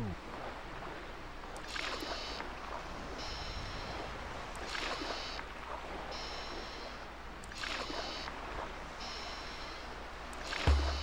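Video game rowing of a dinghy at sea: rhythmic oar strokes splash through water at a steady pace, each pull a soft whoosh over a constant low rumble of sea and wind.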